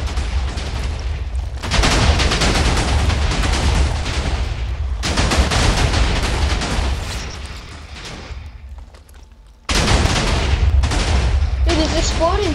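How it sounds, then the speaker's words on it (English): Loud booming explosions tear through a video game map during destruction, coming in long dense bursts of rumbling blasts and crackle with a short quieter gap before they resume. "It is exploding, but there isn't even any TNT."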